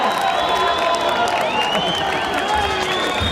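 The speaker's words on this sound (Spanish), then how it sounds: "Recibamos con un fuerte aplauso al conjunto de Zampoña San Marcos" Audience applause and cheering for a zampoña (Andean panpipe) ensemble at a Tupac Katari festival stage, a steady dense wash of clapping and crowd noise with whoops throughout, fairly loud and continuous.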